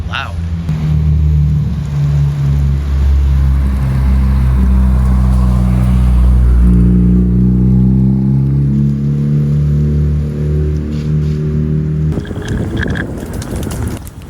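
A loud car engine, heard from inside the car near a 2022 Subaru BRZ, climbs through a long rising rev and then drops off sharply near the end, with wind noise and a voice talking over it.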